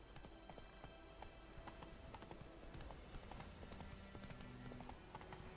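Hooves of a horse in The Witcher 3 video game beat in a quick, steady clip-clop over a dense bed of game music and ambience, moderately close and continuous throughout.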